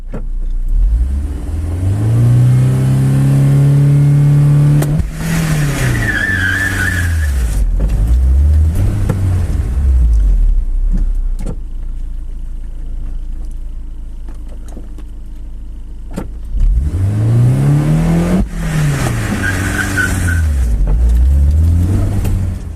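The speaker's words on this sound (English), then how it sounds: "So now let's go ahead and watch a burnout happen" A manual-transmission car does two short burnouts, its engine revving hard to a high, sustained roar before dropping and surging again, close and loud, with a quieter idling stretch between the runs.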